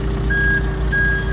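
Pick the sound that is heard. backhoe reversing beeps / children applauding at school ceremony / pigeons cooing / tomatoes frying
backhoe reversing beeps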